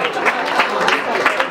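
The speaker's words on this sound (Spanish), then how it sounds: "un aplauso a todos los que están atrás, todos los que participaron" Audience at a harmonica event in Chile claps for the contestants, a brief burst of close, rhythmic applause with distinct clap peaks.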